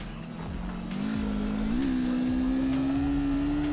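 A Corolla drifting in the CarX Drift Racing Online video game: a steady engine drone climbs in pitch with rising revs, layered with gritty tire squeal, loud and continuous with no talk.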